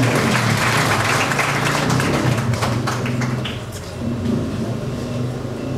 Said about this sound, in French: Je vous demande encore de bien vouloir m'aider à les remercier par vos applaudissements